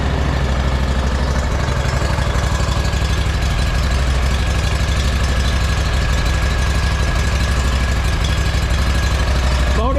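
A rebuilt motorcycle engine idles close by, a steady low rhythmic putter with some knocking that holds even and continuous throughout, with no talking.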